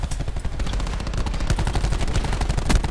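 Gunfire from a war machine in a video game, a dense rapid burst of automatic shots that hammers without pause, loud and close.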